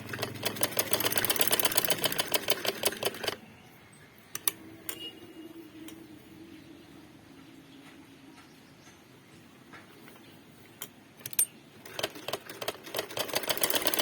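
A sewing machine runs in a steady rapid mechanical patter while a round garment neckline is stitched, loud and close at first, easing into a quieter stretch, then picking back up near the end.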